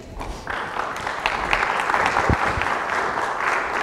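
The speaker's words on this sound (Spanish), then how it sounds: "Denle un aplauso al Señor" A church congregation applauds during a worship service, steady dense clapping from a crowd that swells slightly and holds for about four seconds.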